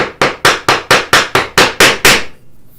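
A mallet strikes a chisel down into wood along a marking gauge line for half-blind dovetails: about ten sharp, evenly spaced knocks in quick rhythm, close and loud, with no talking.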